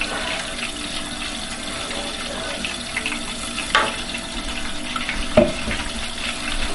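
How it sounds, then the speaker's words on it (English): Water and stock are poured into a pot for jollof rice, making a steady running, splashing flow with a few sharp clinks, near and moderately loud, with no talking. "that's 3 cups of water and then half a cup of stock"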